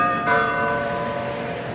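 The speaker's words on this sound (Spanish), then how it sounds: "sonaron las campanas del reloj de la Puerta del Sol" Church bells of the Puerta del Sol clock in Spain, given a radio-effect treatment: a sustained, ringing bell tone with layered overtones, fairly loud and alone, starting with a fresh strike just after the opening.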